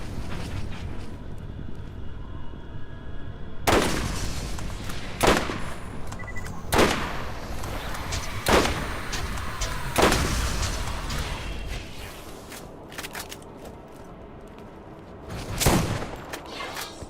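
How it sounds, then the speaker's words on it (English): Sniper rifle fire in the video game Borderlands: Game of the Year Edition, several loud, widely spaced cracking shots over a steady background drone, each with a short ringing tail. "Let's see if this sniper rifle will give me a hand."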